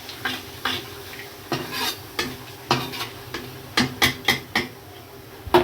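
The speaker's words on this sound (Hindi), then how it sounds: "उसी तेल के अंदर मैं सब्ज़ी बना रही हूँ। ये जीरा डाल दिया" Cumin seeds fry in hot oil left over from frying okra and potatoes, a low sizzle beneath a rhythmic series of close metal spoon clinks and stirs against the pan, with no voices.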